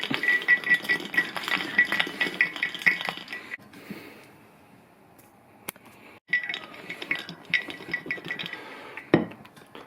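Ice cubes rattle hard inside a cocktail shaker while a Gin Fizz is shaken, two bursts of rapid clinking separated by a short pause and a few isolated knocks, loud and close with no voices.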